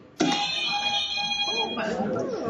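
A loud electronic game show buzzer aboard the Disney Wish cruise ship blares as a sustained tone, followed by a second harsher buzz with overlapping voices and cheering.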